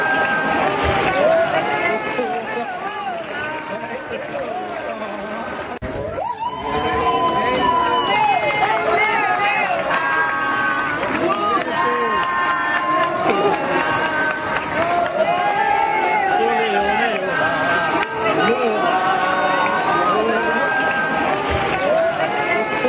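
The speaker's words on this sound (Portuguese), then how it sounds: "foi bastante aplaudido, muita gente gritando, Lula, Lula, Lula" A large crowd at an event in Geneva applauds and shouts continuously, a dense, loud roar of voices and clapping that dips briefly near the start and then returns at full strength.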